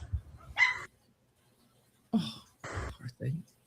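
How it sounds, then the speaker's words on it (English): A small dog barks in a few sharp bursts between stretches of quiet, while people nearby talk and react excitedly. "That little shit dog."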